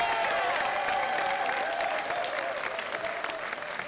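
Loud, sustained applause from a crowd at a public budget forum, many hands clapping in a thick, even roar that tapers slightly toward the end.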